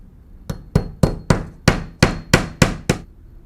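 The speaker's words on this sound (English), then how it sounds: "use the butt of your hammer and just tap up on the panel" The butt of a hammer taps upward on Portsmouth shake siding panels, nine sharp, evenly spaced knocks at a steady rhythm, close and clear with no talking.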